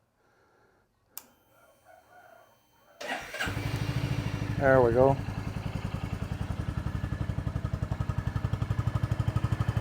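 After a quiet pause, a motorcycle engine cranks and catches, then settles into a loud, steady idle with a rhythmic throbbing putter; someone speaks briefly.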